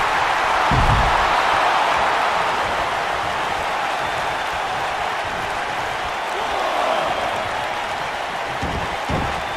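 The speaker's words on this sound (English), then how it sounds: "I don't remember the last time I heard a more passionate crowd than the one we have here tonight" Arena crowd in the WWE 2K19 wrestling game, a tag match between The Ascension and Titus Worldwide, roaring steadily throughout, with a few sharp low thumps from the ring cutting through the dense cheering.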